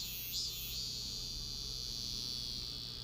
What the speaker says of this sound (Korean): 여름을 뒤흔드는 소프라노 매미 소리